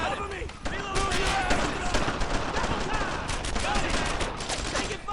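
Machine-gun fire crackles in the Brothers In Arms: Earned in Blood battle through a German-occupied French village, a dense, continuous fusillade of rapid shots layered with shouting soldiers.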